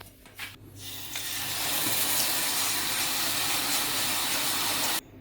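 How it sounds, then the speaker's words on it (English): Rice is rinsed under running water in a kitchen. The flow builds over the first second into a steady, loud rush and hiss, then cuts off abruptly near the end. "You need to wash the rice and like the dust outside the rice to be clean."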